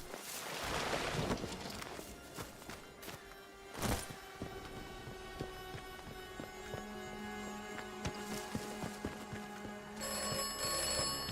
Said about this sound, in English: Got another phone call